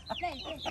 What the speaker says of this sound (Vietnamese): hai con gà mái, ba con gà trống à?